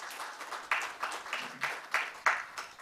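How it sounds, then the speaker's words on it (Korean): Audience applause at a digital talent development forum, a steady patter of many hands clapping with rhythmic surges, fairly close and with no voices over it. "다시 한번 큰 박수 부탁드리겠습니다"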